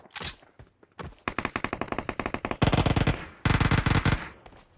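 Rapid automatic gunfire in the video game PUBG crackles in several bursts, close and loud, with short gaps between volleys of evenly spaced shots.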